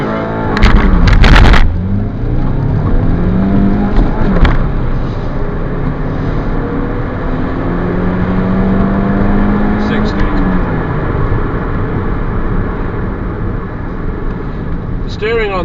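A 2010 Toyota Avensis with a 1.8 engine pulls away hard from a standstill, the loud engine note rising and falling through gear changes as it builds speed. Speech and a bump come at the start.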